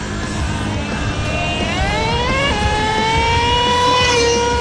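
A Traxxas Revo 3.3 nitro RC truck with two-speed transmission races along, its small nitro engine screaming loud and near as the whine climbs and shifts pitch under continuous revving.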